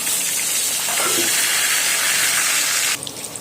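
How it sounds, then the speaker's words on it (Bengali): Eggplant seasoned with salt and turmeric fries in hot oil in a pan, giving a loud, steady hissing sizzle that drops off sharply just before the end. "এবারে ওই তেলের মধ্যে আমি বেগুনটাকেও ভালো করে ভেজে নেব।"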